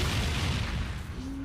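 A deep, rumbling boom of a bomb explosion that fills the whole clip and slowly fades, like a nearby blast.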